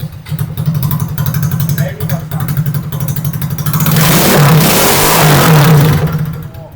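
A Chinese-made replica of a Honda Grom motorcycle revs up, its small engine climbing to a loud sustained roar, while someone talks over the engine noise.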